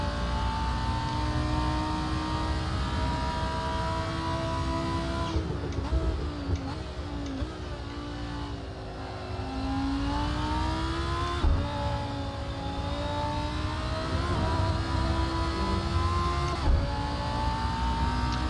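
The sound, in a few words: Lamborghini Huracan Performante engine revving in Assetto Corsa video game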